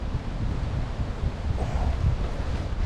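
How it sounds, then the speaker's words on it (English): Strong wind on Palawan buffets the microphone near a waterfall, producing a continuous low rumbling roar with gusty surges. "Looks like another windy day"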